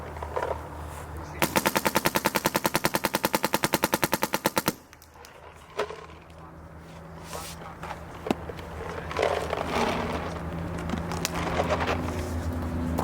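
A MacDev Prime XTS paintball marker firing a fast, steady string of evenly spaced shots for about three seconds, followed by a few single pops and outdoor background noise.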